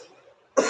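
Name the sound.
cough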